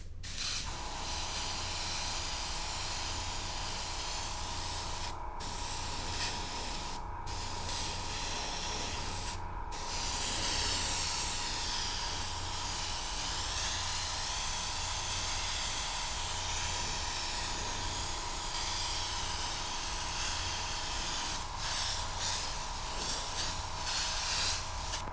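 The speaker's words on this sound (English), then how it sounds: "You just start spraying the uppermost parts of the figure in kind of a halo fashion." Steady airbrush hiss as primer is sprayed over the upper parts of a model figure, continuous with a few brief pauses where the flow cuts off and resumes; close and even throughout.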